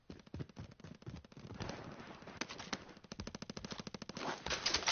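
Rapid video game gunfire rattles in quick automatic bursts, with a dense run of evenly spaced shots near the end, fairly faint overall.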